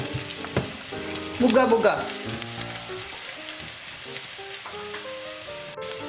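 Chicken roll filling sautéing in a pan, a continuous sizzle with a burst of stirring and clatter early on, and a brief spoken word over it.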